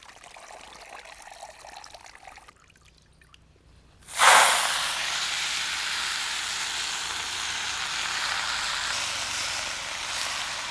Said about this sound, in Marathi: निर्मळ तेल पण चांगलं गरम झालंय आपण भाजी टाकून घेऊ